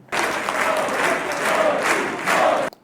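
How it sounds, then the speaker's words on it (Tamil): Lawmakers in the Israeli Knesset in Jerusalem applaud and chant for Narendra Modi, a loud, dense burst of clapping and crowd voices that starts abruptly and cuts off near the end. "இஸ்ரேல் பார்லிமெண்ட் கெஸ்னட்ல இருக்கக்கூடிய தலைவர்கள் மோடி மோடி மோடி என்கிற ஒரு கரகோஷத்தை எழுப்பினார்கள்."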